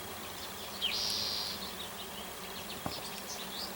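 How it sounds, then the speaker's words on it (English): A swarm of bees over a fishing spot outdoors gives a faint, sustained buzz that rises briefly near the start before settling into a soft, distant hum, with one short knock partway through. "it's a massive swarm of bees"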